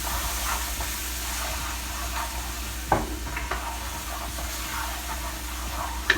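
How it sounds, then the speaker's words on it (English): A spoon stirs a pot of hot homemade fish stock for a seafood étouffée, giving a soft, steady simmering hiss with a few faint clinks against the pot. "Continue to stir."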